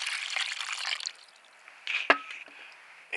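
Pure water pours and trickles onto a calcite-covered tremolite crystal specimen, with a soft hissing splash, a brief pause, then renewed trickling and a sharp drip, close and faint, with no talking.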